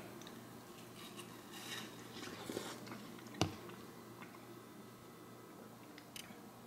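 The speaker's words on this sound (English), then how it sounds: "Let me take one more bite." Close, quiet biting and chewing of a juicy mini seedless watermelon with thin rind, soft wet crunches and squishes, one sharper bite standing out midway.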